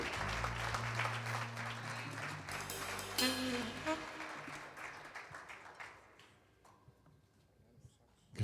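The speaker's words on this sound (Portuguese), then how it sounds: "Uma salva de palmas que é para Deus" A church congregation breaks into loud, sustained applause that fades after several seconds, with a voice and low instrumental tones underneath and a quieter room tail at the end.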